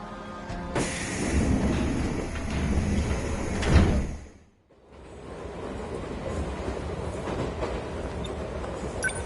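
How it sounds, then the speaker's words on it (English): A train pulls in and its sliding doors open with a loud rush that cuts off abruptly, then steady carriage noise continues alone. "Looks like my train's here"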